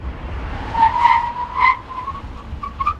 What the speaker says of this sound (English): now we do our 60 to 0 braking test